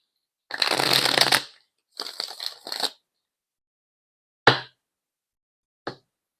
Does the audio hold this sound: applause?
no